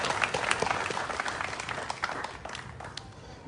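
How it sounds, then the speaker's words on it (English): A crowd at an NAACP rally in Brunswick, Georgia applauds with dense, scattered clapping that stays fairly even, then thins slightly toward the end. "Can we give them a round of applause?"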